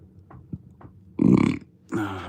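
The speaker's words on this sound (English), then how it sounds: "I just burped, sorry." A man burps on a live stream, a loud low belch right up close after a few small gulping sounds, followed by a second rougher burp.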